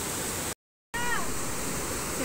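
Strong river current rushing loudly and steadily under a narrow bamboo bridge lashed with rattan on a mountain trail, broadband water noise filling the scene with a brief dropout near the start.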